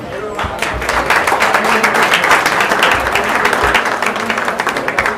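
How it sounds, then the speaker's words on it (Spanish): Strong, steady round of applause from a crowd at the opening of a rural society cattle auction, dense close clapping sustained throughout with faint voices mixed in. "Muchísimas gracias, un fuerte aplauso."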